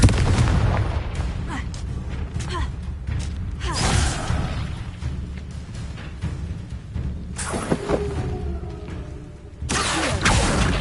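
A Confringo spell blast in Hogwarts Legacy, with booming explosive bursts and magical impacts coming in a few loud waves over a rumbling combat background.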